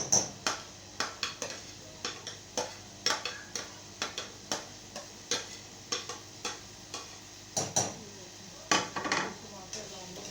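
Tomatoes going into a cooking pot and being stirred, giving repeated close clinks and scrapes of a utensil against the pot in a fairly steady rhythm, faint overall.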